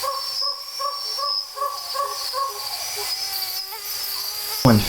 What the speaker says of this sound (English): The chirping of crickets in the tall grass greeted you, quiet and familiar.